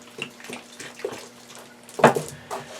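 Water poured into a seedling tray of homemade soil mix, heard as several short splashy bursts with the loudest pour near the end, close and fairly clear.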